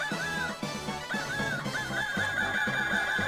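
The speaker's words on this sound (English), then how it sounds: "And with this, we now have the newest member of the Force... Chicken!" A chicken in the video game Shining Force III makes repeated honking, clucking calls over continuous game music.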